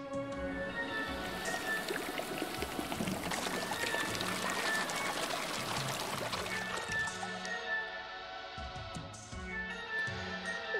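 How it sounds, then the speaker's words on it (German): Water pours and trickles into a flooding chamber in the point-and-click game Darkside Detective 2, a steady liquid rush layered over a continuous game music bed with no talk. "Lassen wir das Wasser reinfließen, damit unsere Sirene bald nach Hause kann."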